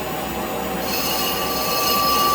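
A lathe cutting tool squeals steadily while machining an antique transmission drum, a loud, sustained high-pitched metallic whine close up over the running machine.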